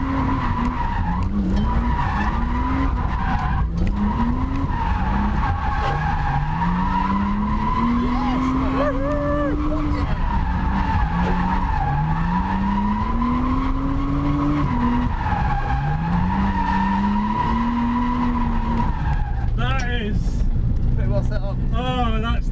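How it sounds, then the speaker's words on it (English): Nissan R32 Skyline drift car with a turbocharged RB25 engine, steady engine drone with rising gear pulls and continuous tyre squeal while drifting, heard from inside the car with talking over it throughout. "that engine is not as loud as I would have thought it would have been"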